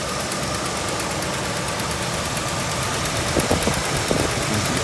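A 1966 Chevrolet Caprice V8 idles steadily after years of sitting, with old oil burning off the exhaust manifold; a close, even rumble with light ticking and knocking running throughout.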